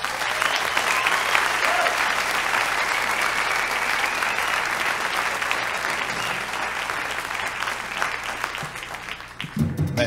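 Sustained, vigorous audience applause for impressionist Stéphane Bélanger, a thick wash of clapping holding steady for about nine seconds before breaking off abruptly at the end.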